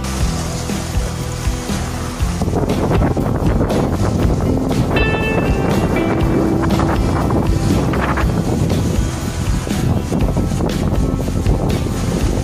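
Steady seaside wind buffeting the microphone with a broad, continuous rumble, loud and close, with no talking.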